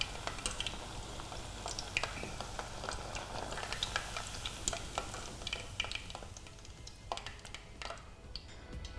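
Maitake mushroom deep frying in fat, a continuous dense crackle and bubbling sizzle with scattered sharp pops, heard close and steady without talk.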